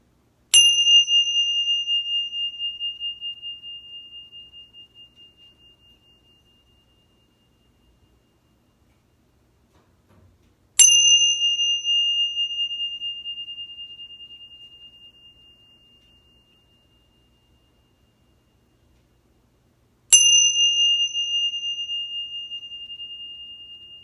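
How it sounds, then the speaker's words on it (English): Ting shas, small Tibetan cymbals, struck three times at roughly ten-second intervals, each bright metallic ring sustaining and slowly fading to silence before the next strike. "how long you can listen to the sound of the ting shas"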